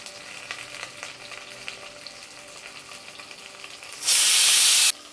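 Vegetables sauté in a pan for radish sambar with a faint, steady sizzle, then a loud burst of hissing steam near the end.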